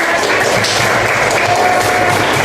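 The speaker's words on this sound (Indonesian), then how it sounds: "Kasih tepuk tangan." A seated audience at a teacher training session gives loud, sustained applause, a dense even wash of many clapping hands close by with no pauses.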